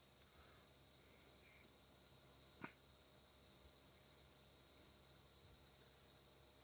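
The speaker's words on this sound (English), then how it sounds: "Kind of nice sitting out here listening to the birds and the crickets." Crickets chirp steadily outdoors in a continuous high, shimmering drone that runs the whole time, with one brief sharp sound partway through and no talking.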